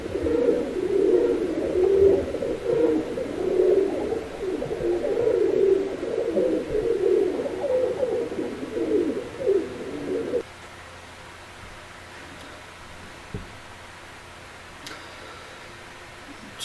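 Feral city pigeons coo in a steady, overlapping low murmur for about ten seconds, fairly close and loud, then stop abruptly, leaving quiet background with a few faint ticks.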